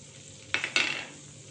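Flour roasts in salted butter in a pan over low heat, giving two quick bursts of stirring sizzle against a quiet, faint background.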